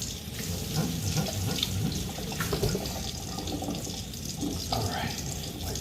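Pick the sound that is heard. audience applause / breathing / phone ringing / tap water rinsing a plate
tap water rinsing a plate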